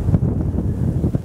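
Strong wind buffets the microphone in an outdoor deer-hunting setting, a steady low rumble with gusty swells and no talking.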